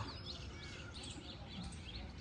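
Crows and other birds calling at sunrise over a village, a scatter of bright, short chirps and calls against a steady, noisy background without talk.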